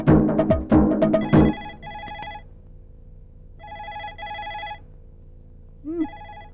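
A telephone rings during a domestic scene in a Telugu film, with a few repeated bursts of electronic ringtone at moderate volume. Voices are heard briefly at the start before the rings continue mostly alone.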